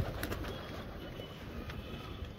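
Soft, low coos from several pigeons settled at night in Amroha, steady and fairly faint, with a little rustling and no talking.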